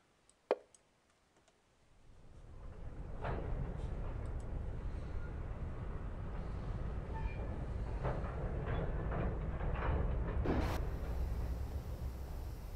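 After a near-silent start with one sharp click, a train in the Train Simulator game rumbles up and rolls on steadily, with a continuous low drone, intermittent clicks and clacks, and a brief louder burst near the end.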